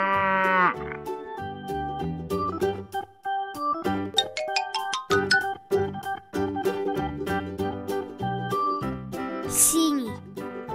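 A cartoon cow moos, most likely a voice imitating it, set over busy children's music with chimes and melody running throughout the clip.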